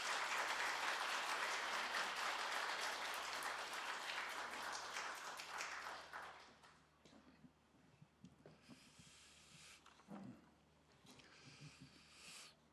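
An audience at a constitutional anniversary academic conference applauds to welcome the National Assembly Speaker. Broad, steady clapping fills the first six seconds, then thins to scattered claps, shuffling and faint room noise.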